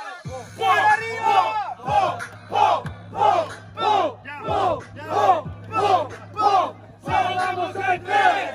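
At a Freedom Kings rap battle final, a live crowd chants and shouts in loud, rhythmic bursts about once a second, with cheering and whooping rising and falling in a steady pulse.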